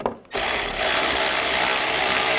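A power tool whirs steadily as it snugs down a bolt on a horn bracket of a 2011-2018 Volkswagen Jetta, starting abruptly after a brief quiet moment and holding a loud, constant tone to the end.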